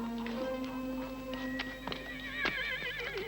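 Post horses in a 1960s period adventure setting neigh and whinny clearly and up close, with hooves clip-clopping intermittently beneath, with no speech over them.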